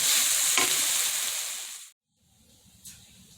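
Quinoa tipped into a pan of frying mushrooms, peppers, garlic and shallots gives a loud, steady broadband sizzle that cuts off abruptly, then returns as a softer, quieter crackle with one brief flare.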